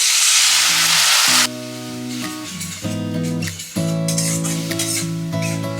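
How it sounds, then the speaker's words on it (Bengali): Spice powders mixed with water (turmeric, chilli, cumin and Kashmiri red chilli) hit frying onions and ginger-garlic paste in a pan with a loud, brief hissing sizzle. Background music then plays over the continued cooking. "পেঁয়াজের মধ্যে দেখো আদা রসুনের পেস্ট অ্যাড করে দিয়েছি। এবার এর মধ্যে আমি মশলাগুলা জল দিয়ে দিচ্ছি"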